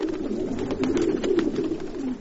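Pigeons coo in soft, low, throaty repeated calls, close and continuous, overlapping one another with faint rustling.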